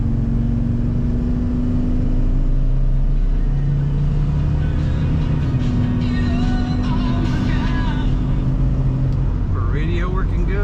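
A 1998 Dodge 3500 dually pickup truck engine idles with a low, steady rumble throughout, close by, while a person talks over it.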